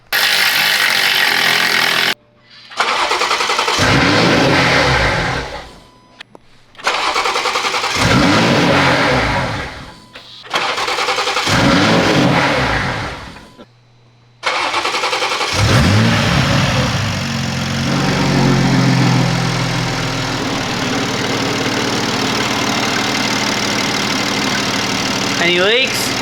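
A Toyota Supra engine with a newly upgraded turbo fires up and settles into a steady, rumbling idle. It follows several bursts of nearby talking separated by short silences.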